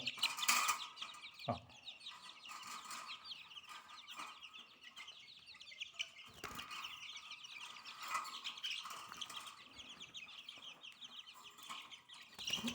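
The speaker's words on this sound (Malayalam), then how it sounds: "ഇത്രയും കോഴികളുണ്ട് ഇതിൽ പലതും കാപ്പിരിയുണ്ട്" Kapiri chickens, a flock that includes chicks, cluck and chirp continuously at moderate distance, with a few louder bursts and brief thumps, and no talking.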